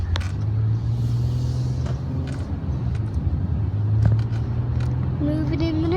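Interior of a new car driving in bright sun, with a steady low engine and road rumble running throughout, and people talking faintly over it.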